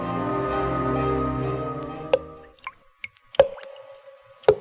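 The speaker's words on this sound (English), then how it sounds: "The sound you hear is dripping blood." Dripping blood effect in a horror radio broadcast: a few isolated, sharp drips fall one by one after a fading sustained tone, each a distinct close plop with silence between.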